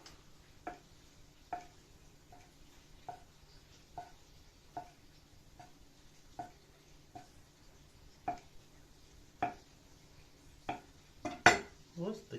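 Knife slicing through boiled Bukovinian dumplings (knedli) with white mushrooms on a board, giving a steady series of soft, regular cuts about every second. The cuts grow louder and denser toward the end, with no talking.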